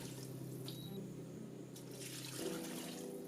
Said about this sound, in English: So we're going to throw in 4 liters of water.